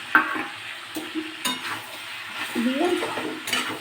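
A spoon stirring fish head and spices frying in a pan, with soft scraping strokes and light clinks against the metal over a low sizzle, close and fairly quiet.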